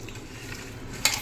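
Chicken being mixed with kasuri methi and spices in a pan, a steady soft stirring and light sizzle up close, ending in a brief clink of a utensil.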